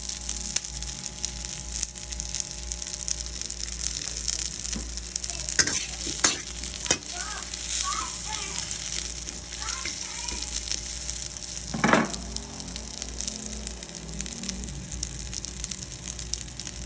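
Meat browns in a frying pan with a steady broad sizzle throughout, a few sharp clicks of utensils around the middle and one louder scrape or stir burst later, close and continuous.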